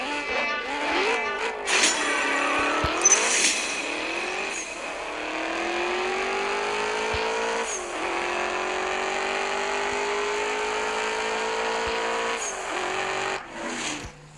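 A BMW M3 GTS engine roars in a racing video game, holding a sustained high-revving tone with rising and falling pitch sweeps as it shifts, loud and steady throughout with brief dips between gears.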